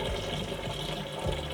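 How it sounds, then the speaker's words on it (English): Hot sugar poured straight into homemade blackberry cider made from jam, a steady close liquid pour with continuous splashing and trickling, fairly quiet and without talk. "I'm an idiot, so I'm just going to pour it straight in."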